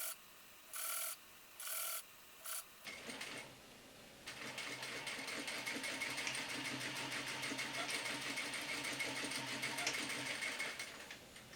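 Sewing machine stitching the side seams of a costume jumpsuit, a few short bursts of motor whir at first, then one long continuous run of rapid, even mechanical stitching close by.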